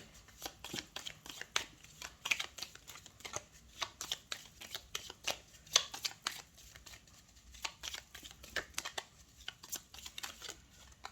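Petit Lenormand cards being shuffled for a reading, a quiet, irregular run of soft riffling flicks and slaps close by, continuing throughout with no talk.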